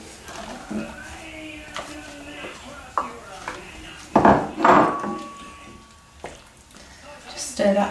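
Mushrooms stirred into a bolognese sauce in a pan: scattered scraping, clinking and knocking of a utensil against the pan, with a louder cluster of clatters midway, under a voice talking.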